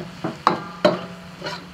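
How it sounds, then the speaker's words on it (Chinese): Chopped bird's-eye chili peppers go into a hot wok with soy sauce and salt, giving a few soft sizzles and stirring scrapes, each brief and close, with quiet gaps between them. "现在下入1碗的这个小米椒"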